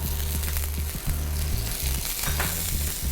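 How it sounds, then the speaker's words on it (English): Steady crackling sizzle from shrimp frying in a hot pan, with faint low musical tones running underneath. "we're going to put the shrimp in. You can hear that sizzle."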